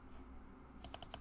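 A few sharp computer clicks, about four in quick succession near the end, faint and close, after a quiet stretch.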